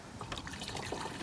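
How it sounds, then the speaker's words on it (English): Engine coolant pours steadily into the expansion tank of a 2004 Chevy Impala, a continuous close trickling and gurgling with no voices. "next, you just want to pour your engine coolant"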